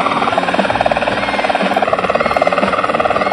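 Helicopter rotor whirring steadily in a GTA video game, a loud, continuous fast chop with a dense buzzing drone filling the whole stretch.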